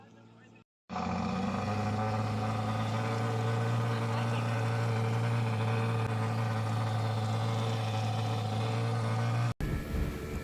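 A speedboat engine on Gregory Lake in Nuwara Eliya, roaring up after a brief pause and holding a loud, steady drone with a strong low hum, close by, with faint voices underneath.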